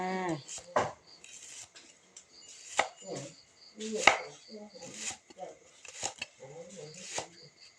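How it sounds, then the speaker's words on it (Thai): A knife chops shallots sharply against a cutting board in irregular strikes, while a person talks over the chopping. "หั่นหอมหั่นหอมจ้า"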